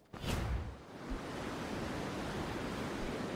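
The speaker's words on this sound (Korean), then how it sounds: "뭐야, 바람 소리 이게." Wind noise played back through a high-end gaming headset, a steady broadband rushing that swells in after a brief soft start and holds evenly, with no voices over it.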